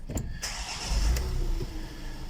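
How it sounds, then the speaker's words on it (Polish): A 2019 Renault Master van engine cranks and fires up, then settles into a steady low idle, close and fairly loud, with no talking. "Uruchamiamy silnik."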